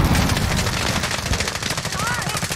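Rapid automatic gunfire rattles in a close, loud burst during a Call of Duty Warzone match, with layered shots sounding in quick succession.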